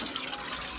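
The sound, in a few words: water running from an old-style bathroom shower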